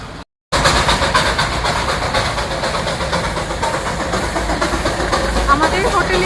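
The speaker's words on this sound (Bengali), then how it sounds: "আমাদের হোটেলের একদম সামনে থেকে এই ট্রেন, টয় ট্রেন।" The Darjeeling toy train passes close by in front of a hotel with a loud, continuous rumble, rattling carriages and a hissing, steamy wash of noise.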